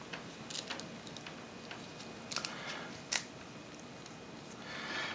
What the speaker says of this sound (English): you can hear just the sounds of the cards kind of separating there